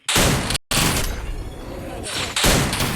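Gunfire in a shooter video game: dense, loud bursts of rapid shots fill nearly the whole moment with a short gap, close and harsh, with someone talking under the shooting.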